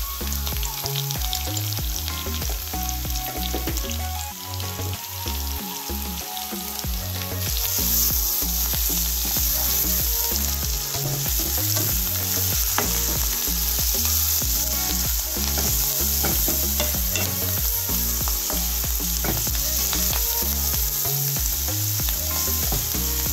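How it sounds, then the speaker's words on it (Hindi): Vegetables sauté in a pan for a pulao made from leftover rice, a loud, steady sizzle with repeated stirring scrapes and clinks that swells partway through, close and with no talk. "इसके बाद इन सबको अच्छी तरह से आप लोग इस तरह से भून लीजिए।"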